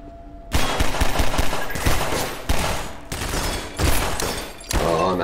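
Rapid bursts of gunfire from a gun in Half-Life 2 VR, loud automatic volleys in several separate runs with brief pauses between them, close and harsh.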